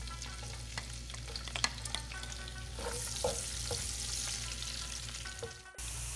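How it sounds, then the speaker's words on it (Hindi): Onions sautéing in hot oil in a pan give a continuous close sizzle with scattered crackles and a brief louder hiss partway through, with no voices. "जब ऑयल गर्म हो जाए तो प्याज डालकर हल्का सा सौते कर लें।"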